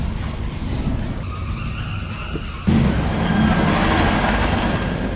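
A car engine drones while tires squeal and skid, then the skid suddenly grows louder and harsher as the car slides through tight slalom turns in a parking lot using the handbrake.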